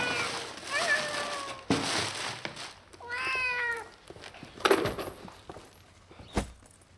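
A kitten meows several times at close range, in drawn-out repeated calls, with a few clicks and soft handling noises in between.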